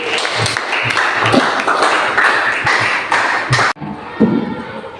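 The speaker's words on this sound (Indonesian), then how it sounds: "Mari kita kasih aplaus untuk teman yang memberikan jawab" Classroom applause from students rewarding a classmate's answer, dense overlapping claps filling nearly four seconds before cutting off abruptly, then a few scattered claps and quieter room noise.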